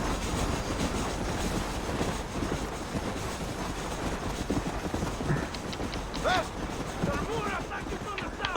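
Steady rumbling clatter of a moving train in the Red Dead Redemption video game on Xbox One, a dense continuous rolling din with rhythmic clacking and occasional hoofbeat-like knocks, someone talking over it.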